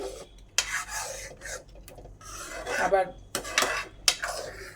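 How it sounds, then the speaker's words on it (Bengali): A ladle stirring vinegar into mango kasundi in a metal pot, with repeated clinks and scraping rubs against the pot sides in an uneven rhythm, close up, with faint speech at moments. "ভিনিগার মিশিয়ে দিলাম এই হাতা দিয়ে"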